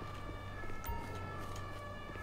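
Emergency vehicle siren in the GTA LSPDFR police video game at a 200 km/h crash scene, a steady wailing tone held throughout at moderate loudness over background noise.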